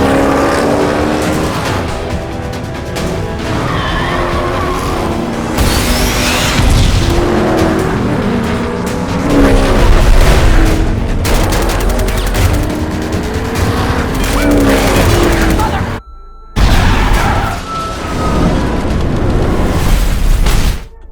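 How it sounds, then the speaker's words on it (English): Cars race in Death Race amid missile blasts, flipping and exploding. Roaring engines, squealing tires, crashes and booming explosions form a loud, dense, continuous barrage with one abrupt cut near the end. "the race continues with missiles destroying the surroundings, cars flipping and exploding"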